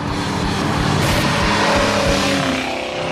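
A 1968 Pontiac GTO muscle car engine drones loud and steady while driving at speed, a close, continuous rumble filling the whole stretch.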